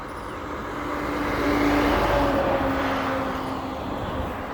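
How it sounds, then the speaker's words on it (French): A truck approaches on the road, a broad engine rumble that swells toward the middle and then stays steady, heard with no talking. "Ça c'est un camion qui arrive là."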